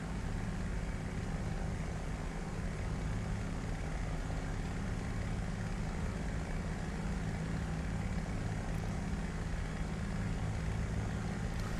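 A steady propeller aircraft engine drones in flight in a flight simulator, a constant broadband hum holding at an even level with no talk over it.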